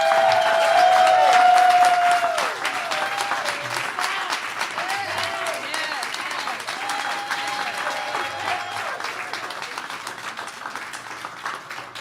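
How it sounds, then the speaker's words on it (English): A crowd applauds a band at the close of a live show, loud dense clapping with some cheering, a voice over the start and faint music-like tones under the steady applause. "give them a round of applause"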